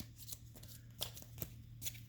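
Three path cards from the Netherlight board game are shuffled in a few quick riffling bursts, crisp and close, with short pauses between them in a quiet room.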